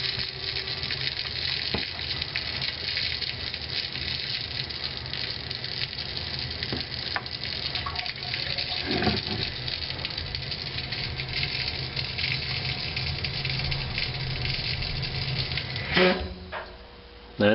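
Water rushes steadily from a hose into a radon mitigation system as the level rises toward the inlets, a continuous broadband gush with a brief change near the end as the flow is pinched off.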